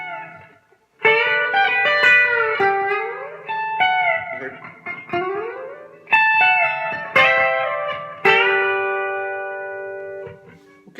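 B-bender electric guitar playing a country pedal steel style lick: a string of clean, close notes with smooth upward bends that imitate a pedal steel, phrases separated by short gaps and ending on a long ringing note.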